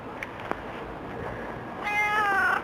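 A cat meows insistently in a prolonged, wavering call near the end, preceded by quieter room sounds and a faint earlier mew.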